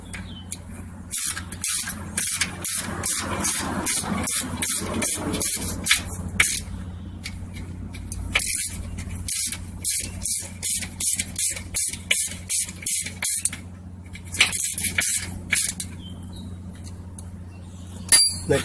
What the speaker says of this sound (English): we want to tighten these 10mm nut to support the bracket